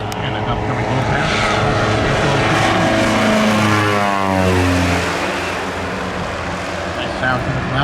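Lake amphibious propeller airplane with underwing sponsons making a low pass, its engine drone rising and then sweeping down in pitch as it goes by, loud and steady throughout.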